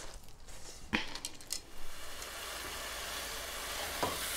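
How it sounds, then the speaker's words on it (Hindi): Mutton keema cooking in a pot, a soft, faint hiss of frying with a few clinks of a utensil against metal early on, then a steady low sizzle. "कीमा भुन चुका है"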